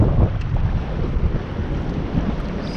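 Steady gusting wind buffets the microphone, a continuous low rumble with no talking.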